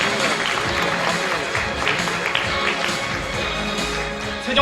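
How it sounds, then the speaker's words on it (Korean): An audience at a party candidate event welcomes a candidate with applause, a steady wash of clapping from a crowd with some voices mixed in, continuous and fairly loud across the whole stretch. "여러분 뜨거운 박수로 맞이해 주시기 바랍니다."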